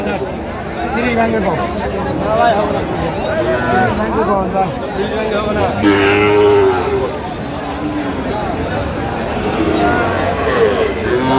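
Sahiwal cattle and calves at a Chittagong livestock market give several loud, drawn-out moos over a busy background of people talking and crowd chatter.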